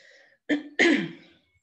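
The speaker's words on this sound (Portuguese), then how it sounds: "uma pausa ali para tossir" Two quick coughs close to the microphone, a short one followed by a longer, harsher one, with silence before and after.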